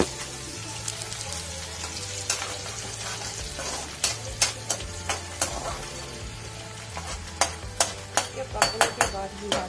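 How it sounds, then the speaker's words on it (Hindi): Ginger and onion frying in a pan for egg curry, a steady close sizzle under a low hum, broken by sharp scraping clicks of a spoon stirring, growing busier toward the end; no one speaks. "उसके बाद अदरक प्याज रखी, उसके बाद हम इसको थोड़ा सा पकाएंगे।"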